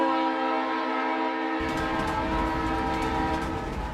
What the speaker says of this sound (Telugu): రే రైలు వచ్చిందిరా.